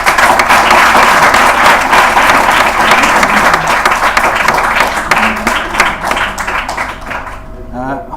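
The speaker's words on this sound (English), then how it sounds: "Okay, everybody, we should give Dr. Leonard a big clap." An audience claps after a medical lecture on ECG basics, loud, dense applause that tapers off toward the end, with a voice speaking over the clapping.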